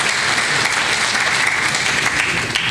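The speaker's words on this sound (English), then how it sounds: "Give her a round of applause, please." An audience at a symphony concert in Côte Saint-Luc claps steadily after a piano performance, a dense, even wash of applause that fills the whole stretch.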